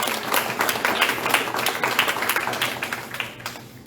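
A church congregation claps during a Spanish-language sermon, a steady moderate patter of many hands at middle distance that thins out toward the end, with no voices over it.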